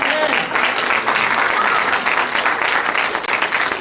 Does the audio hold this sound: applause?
yes